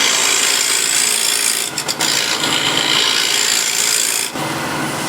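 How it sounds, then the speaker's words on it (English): A steel shear scraper shapes the bottom of a small wooden offcut in a continuous, loud, close rasping scrape, with a couple of brief pauses between strokes. "And again, using shear scraper to shape the bottom."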